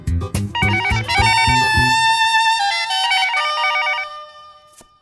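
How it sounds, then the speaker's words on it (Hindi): A telephone bell rings loudly and repeatedly with no one answering, its bright electronic trill cycling through a melodic pattern over a low musical backing, then fading out after several seconds. "तुम फोन क्यों नहीं उठा रही हो शगुन"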